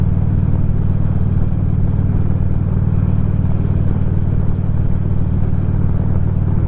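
Motorcycle cruising along the road on a cold, cloudy morning, its engine rumbling steadily and loud with constant wind noise throughout, no talking.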